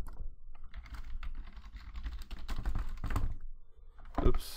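Computer keyboard keys clatter in quick, uneven bursts while a Parabot script is being compiled, the typing close and steady, pausing briefly before a final louder flurry of strokes.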